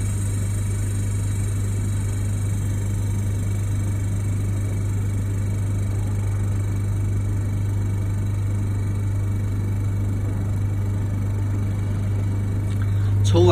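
Laminating machine with a metal plate that fails to press down, started up and pumping vacuum: a loud, steady low hum with a constant motor drone, unchanging for the whole stretch until a slight swell at the very end.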